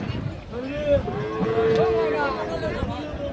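A Friesian cow at the Raniganj cattle market in Dinajpur lets out a long, loud moo close by, over market murmur and distant voices.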